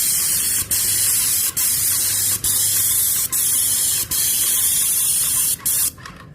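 Airless paint sprayer spraying a house wall, a loud steady high-pitched hiss close by, broken by about seven brief trigger pauses before it cuts off at the end.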